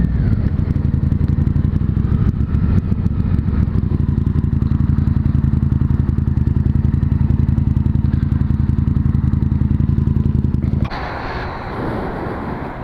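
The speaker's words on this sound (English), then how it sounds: "Honda VTR 1000F Firestorm" A Honda VTR 1000F Firestorm V-twin motorcycle engine runs steadily, loud and close with a deep rumbling pulse, then drops abruptly to a quieter idle near the end.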